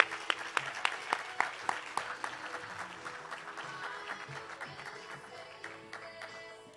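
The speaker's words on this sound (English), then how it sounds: "Let's give her a big round of applause." Applause from an event audience greeting a speaker, starting with a few distinct sharp claps that blend into a steady crowd clapping, then slowly tapering off, heard without speech.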